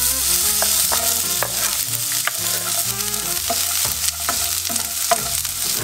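Onions frying in hot oil for caramelizing give a steady, close, loud sizzle with stirring scrapes and a faint musical background, with no one speaking.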